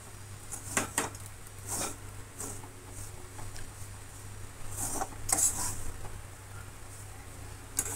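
Semolina (rava) dry-roasting in a pan over low heat, stirred with a utensil: faint scraping and light clinks of the spoon against the pan, scattered over a quiet steady hum.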